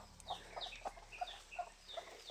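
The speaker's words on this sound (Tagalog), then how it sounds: "Halas na manok." A chicken roaming free clucks outdoors in a rapid run of short, evenly spaced calls, faint and somewhat distant, with no one speaking.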